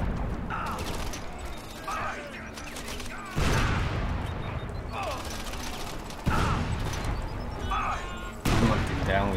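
Gunfire and a grenade blast ring out in the video game Crackdown, with loud broadband bursts hitting around three, six and eight seconds over a steady din of game noise, while someone talks throughout.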